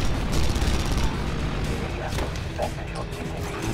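Auto turret gunfire in the video game Red Faction Guerrilla, a dense, loud barrage of rapid shots with crashing impacts running throughout, and someone talks over the shooting.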